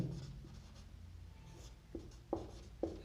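Marker or chalk writing on a board during a solid-state chemistry lesson, soft scratchy strokes with a few sharper taps toward the end over a low room hum.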